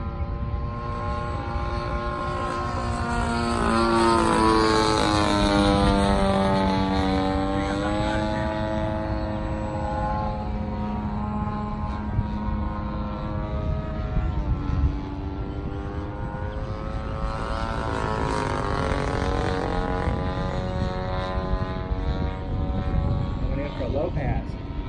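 A Phoenix Models Spitfire radio-controlled model airplane flies overhead, its engine droning steadily and rising and falling in pitch as it passes, with occasional talk nearby.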